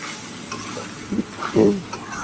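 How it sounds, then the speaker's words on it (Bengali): Chicken ghugni with chickpeas sizzles in a pan as a spatula stirs and scrapes through it in a few short strokes, close and fairly loud over a low frying hiss, with no talking. "একটু পাতিয়ে পাতিয়ে নাড়াচাড়া দিতে হবে, তাহলে যে ছোলার যে জলটা সেটাও টেনে যাবে"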